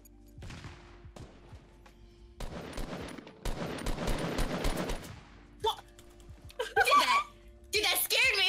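Bursts of automatic gunfire in a Fortnite Battle Royale match, rapid and close, rising toward the middle, with players chatting and laughing over the game sounds.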